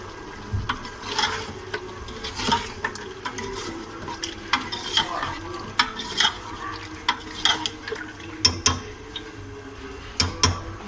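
Potatoes and meat for aloo gosht fry in a pot, with a constant low sizzle and irregular scraping knocks from a spoon stirring, loud and close with no talk.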